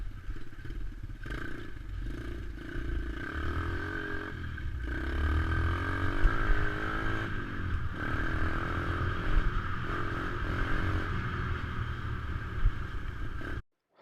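A dirt bike engine drones and revs continuously as the rider climbs a trail away from camp in Alaska, close and steady with shifting throttle, clattering and scraping from the ground, cutting out at the very end.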